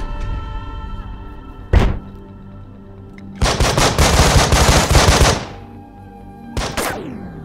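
Gunfire hitting a squad member in the video game Breach & Clear: a single sharp shot, then a dense burst of rapid automatic fire lasting almost two seconds, followed by one more loud shot, all close over a low hum.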